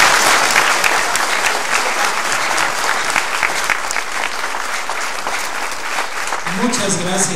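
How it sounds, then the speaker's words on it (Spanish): Loud, dense applause from a church congregation for the priest at a festive December mass in Santa María Chigmecatitlán, Puebla, continuing steadily for several seconds before a voice begins speaking at the end. "Dame un fuerte aplauso al Padre."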